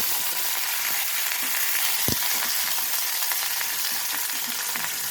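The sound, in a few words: drumstick and brinjal frying in oil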